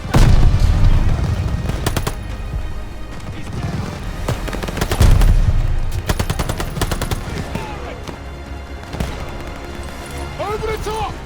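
Machine gun bursts rattle in rapid sharp volleys in Call of Duty Vanguard, loud and close amid booming battle noise, with shouted voices under the gunfire.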